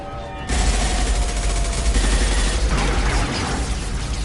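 Gunfire in Mass Effect 2 breaks out after a brief quiet moment, a dense sustained volley of rapid shots and deep thumps that stays loud and close to the end with no voices.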